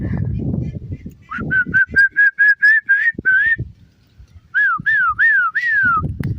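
Loud, close whistling in a run of rising, repeated notes, pausing, then a few longer swooping whistles, with low rustling underneath.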